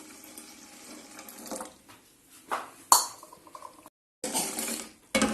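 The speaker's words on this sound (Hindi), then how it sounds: "तो अब ये मैं कहवा इसमें डाल रही हूँ।" Kahwa being poured from a vessel into heated milk for Kashmiri pink tea, soft liquid splashing with a couple of metallic clinks from the pot, close by, then a short pause and a louder final pour, with no speech.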